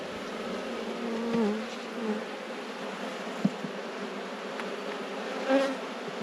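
Honeybees buzzing steadily around an open hive during an inspection, a close, continuous drone with individual bees passing near now and then.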